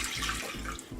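Water poured into a bowl while making homemade lye soap, a soft, close, continuous splashing trickle at low level.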